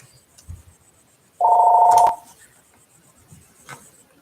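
A phone gives a short electronic tone lasting about half a second, loud and close, amid a quiet room with a few faint knocks and rustles.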